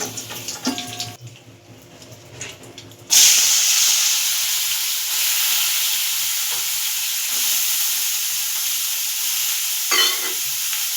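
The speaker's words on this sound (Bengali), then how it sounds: "এবার আমি এর মধ্যে এই তেলে একটু বিনস আর গাজর হালকা করে ভেজে নেব।" Beans and carrots going into hot oil in a pan. A few quiet seconds of handling give way to a sudden loud burst of sizzling, which then settles into a steady, close frying hiss.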